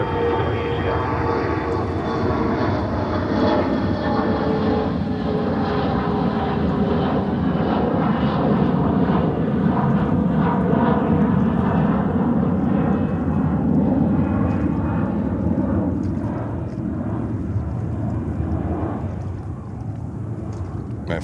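A Condor airliner arriving at JFK Airport, its engine roar broad and steady throughout, fairly loud and sustained, with no talk over it.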